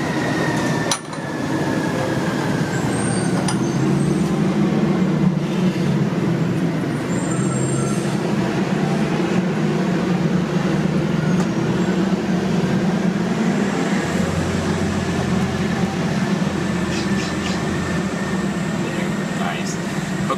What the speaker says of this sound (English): let's let the truck go by.